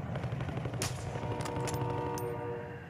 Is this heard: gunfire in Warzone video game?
yes